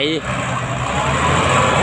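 A GS 115-horsepower tractor works on grading wet, sticky clay soil, its engine a steady loud rumble close by, with a person talking over it.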